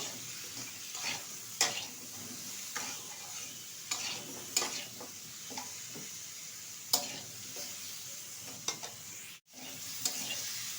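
Drumstick curry with turmeric stirred in a pan, soft frying sizzle beneath repeated scraping strokes of a spoon against the metal, a handful of sharper clinks scattered through, close and fairly quiet.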